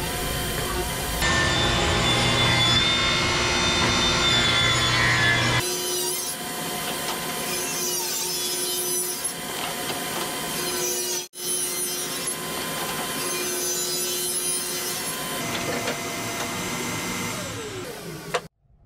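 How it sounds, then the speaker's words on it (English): A table saw cuts strips of wood about an inch thick for a squirrel feeder. The blade whines loudly and close in long continuous passes, briefly cutting out near the middle before resuming, and nobody speaks. "we're gonna do that over at the table saw"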